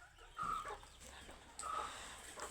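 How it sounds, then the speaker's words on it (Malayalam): A hen about to lay an egg gives two short clucking calls, a little apart, fairly faint against quiet background noise. "ഒരു കോഴിയാണ് മുട്ടിടാൻ പോണത്"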